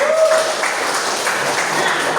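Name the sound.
class applause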